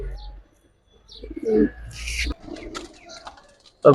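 Giribaz and coloured pigeons coo close by in a few soft, throaty bursts, with a sharper chirp near the end, among clatter from the loft.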